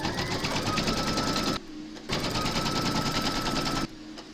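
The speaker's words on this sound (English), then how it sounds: "we're now going to stitch round number one, and that's going to give us our placement outline for the shoes" An embroidery machine stitches the placement outline for an applique design: a loud, rapid mechanical needle chatter runs steadily, stops briefly twice and then resumes.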